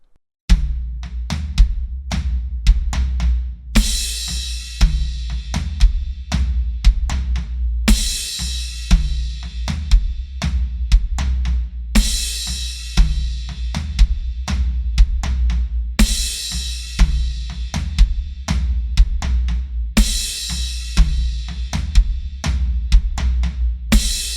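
A drum kit plays a repeating tom groove, steady hits on the toms with a loud crash cymbal splashing in every few seconds, no voices.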